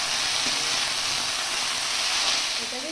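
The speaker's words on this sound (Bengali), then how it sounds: "এই থানকুনি পাতা, আলু, বেগুন একসাথে আমি একটু ভেজে নেব।" Thankuni leaves, potato and eggplant frying together in a pan, giving a steady, even sizzle and hiss that runs unbroken at moderate level with no talk over it.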